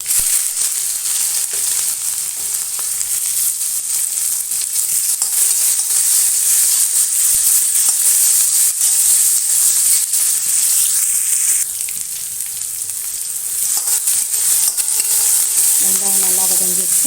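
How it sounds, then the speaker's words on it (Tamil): Onions sizzle steadily in hot oil for a South Indian carrot-beans poriyal, added after mustard seeds and urad dal, with continuous bright frying hiss and occasional stirring scrapes throughout. "இப்போ வெங்காயம் போடுறேன்."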